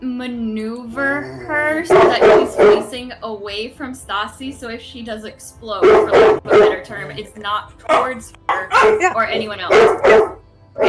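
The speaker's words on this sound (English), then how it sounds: "Sorry about the dogs." Dogs bark and yip intermittently in the background of a tabletop role-playing game session, mostly underneath ongoing conversation between several people.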